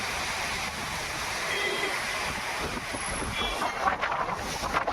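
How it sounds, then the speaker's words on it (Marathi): Strong gusty storm wind sweeping through trees in the Konkan countryside before the first monsoon rain, a steady broadband roar with rising gusts and no talk. "पहा एवढा जोरदार वारा आहे, वादळी वारा."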